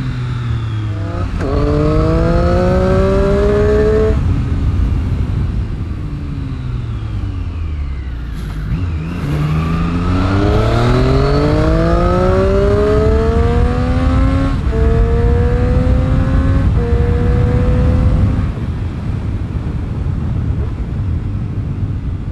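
A 2018 Triumph Street Triple R motorcycle accelerates hard at full throttle, its engine climbing through rising revs in loud, close pulls, with brief drops between gear shifts and a steady rising roar throughout.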